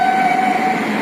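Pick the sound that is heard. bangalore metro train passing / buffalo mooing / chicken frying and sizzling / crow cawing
bangalore metro train passing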